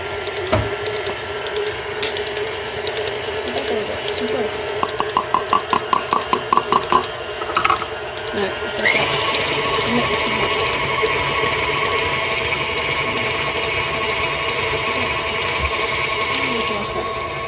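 An electric mixer beating cookie dough for Nutella and marshmallow cookies in a home kitchen; clattering dishes and light knocks come first, then a steady whirring hum takes over for the second half, with some talk.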